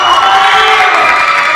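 A loud crowd at a state esports championship cheers and shouts with whoops over scattered clapping, close and continuous, dominated by voices rather than hands.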